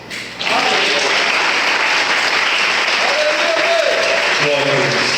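A church congregation breaks into applause during a service, clapping starting abruptly and holding steady and loud, with a voice calling out over it near the middle and end.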